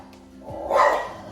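A dog gives a single short bark at middle distance, rising and fading within a second over faint background hum.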